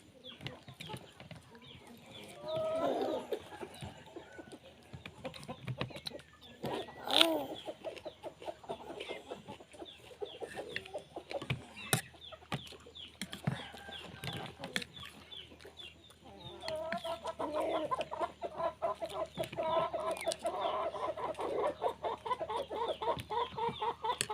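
Chickens cluck and squawk around someone feeding them instant noodles, scattered calls near and far with bursts of louder fowl activity and faint background noise, a voice briefly heard.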